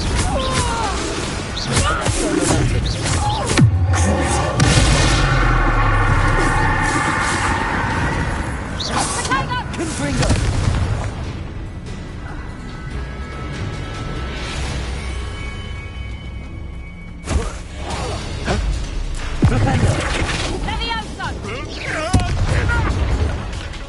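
Confringo fire blast spells in the video game Hogwarts Legacy erupt as repeated loud explosive crashes and booms across a noisy battle, with voices heard at times.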